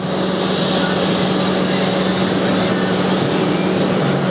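A jet airliner takes off from runway 22 Right at JFK with a broad, continuous engine roar that holds loud and steady throughout, no voices.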